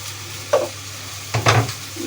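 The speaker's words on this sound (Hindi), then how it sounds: "इसको मिक्स कर लेते हैं।" Chicken coated in tikka powder, turmeric, red chili and coriander powder is stirred in a pan, two or three close scraping strokes over a soft sizzle, with no one talking.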